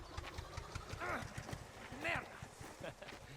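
Horses clip-clop at a steady walking pace in the Mafia video game, moderately loud, with a couple of harmonic whinny-like calls and a low engine-like hum underneath.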